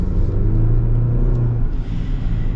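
The engine of a 2024 Chevrolet Colorado ZR2 pickup builds in a loud, deep, steady rumble as it accelerates, heard up close and continuous with no talk over it.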